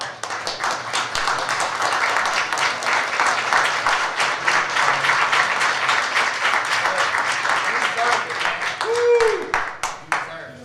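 A standing ovation for Mr. Billy Jackson at a council work session: many people clapping in a full, sustained burst that swells and then tapers off, with a few voices calling out near the end.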